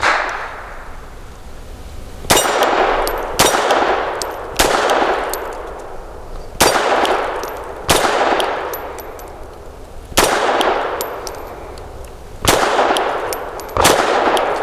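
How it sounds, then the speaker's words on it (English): Grand Power LP380 pistol shots ringing off steel targets at an outdoor range, eight sharp loud reports spaced a second or two apart, each followed by a bright metallic clang and a short decay. "Now for a more fair evaluation, a non-regular Grand Power shooter, Miss Tia gives it a try"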